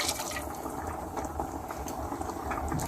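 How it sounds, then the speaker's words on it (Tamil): Masala gravy bubbles in a pot, a continuous close simmer of small pops and gurgles at moderate volume with no talking. "மிக்ஸ் பண்ணி நல்லா கொதிக்க விடும்"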